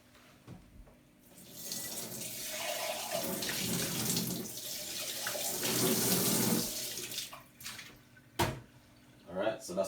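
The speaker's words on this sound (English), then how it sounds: "what we're going to do is pour this into this glass" A lemon and chilli pepper detox drink pours into a glass in a steady liquid stream that swells and fades over several seconds, followed by a few brief clinks. Someone talks quietly around it.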